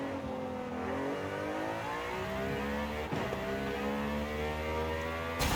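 Car in Forza Horizon racing game on a Nurburgring replica track, engine revving hard and climbing steadily in pitch as it accelerates, loud and continuous with gear-change dips and no talking.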